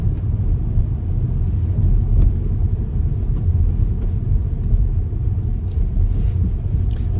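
A car cruising in third gear with barely any throttle gives off a steady, low engine and road rumble that continues without a break.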